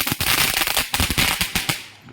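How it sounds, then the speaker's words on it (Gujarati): Diwali firecrackers burst in a rapid, irregular string of sharp cracks and pops, a dozen or more loud nearby bangs tumbling over one another before trailing off, with no voices. "દિવાળીનું બધું ફટાકિયા ફોડવાનું ચાલુ છે"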